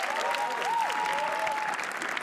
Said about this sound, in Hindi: तालियां उनके लिए।